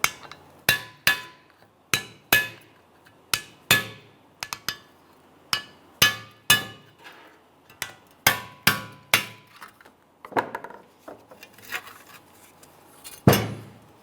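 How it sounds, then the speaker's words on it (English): Repeated metallic hammer-and-chisel strikes knock off a brake dust shield on a 2006-2012 Ford Fusion, at an irregular rhythm, close and sharp, each knock followed by a brief clinking decay. "This can fairly easily be done with a hammer and chisel. Just go ahead and knock this around a little bit"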